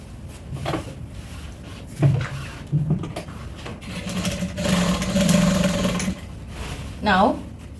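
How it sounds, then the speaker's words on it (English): A sewing machine stitches African print fabric for a lined tote bag with a zip, running in short bursts with a longer run in the middle, amid fabric handling and a brief voice. "Okay, then I'll go ahead and sew."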